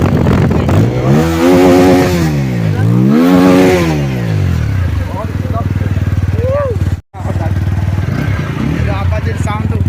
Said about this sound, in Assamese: এইটো বাইকৰ চাউণ্ড চব শুনি লওক